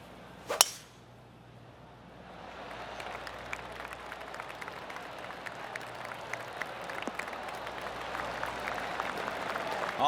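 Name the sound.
golf crowd clapping in PGA TOUR 2K25 video game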